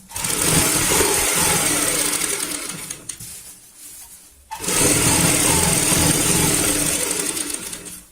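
A sewing machine stitches a baby bed sheet, running in a loud, steady mechanical whir that stops briefly for about a second and a half, then resumes at full speed to the end.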